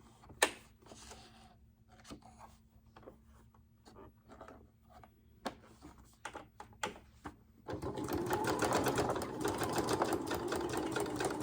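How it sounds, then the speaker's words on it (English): A sewing machine stitches a straight seam on a junk journal cover, first in short stop-start bursts of clicking, then running in a steady, continuous whir near the listener. "now I'm going to go back to a straight stitch while I sew around"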